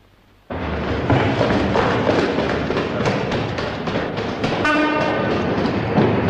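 A train starting abruptly and rumbling loudly and close through the whole stretch, a broad roar with rhythmic wheel clacks and a short horn tone near the end.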